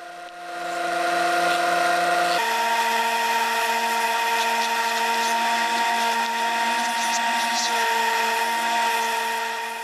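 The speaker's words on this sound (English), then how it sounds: "And then back to the disc sander." A disc sander shaping a wooden knife handle, a loud steady motor whine running continuously with a brief pitch change as the wood is pressed against the disc.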